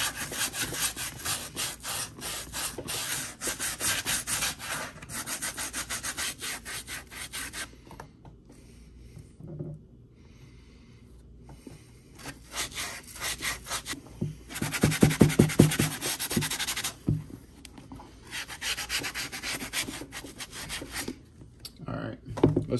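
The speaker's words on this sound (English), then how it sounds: "I'm gonna sand it." Steady back-and-forth rasping of sanding across the leather of Red Wing 1907 boots after saddle soap is applied, running in close, loud bursts with brief pauses and one louder scrubbing stretch near the end.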